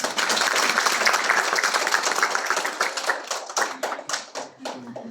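An indoor audience at a book presentation in a history museum claps in dense, loud applause that gradually thins into scattered individual claps and fades out.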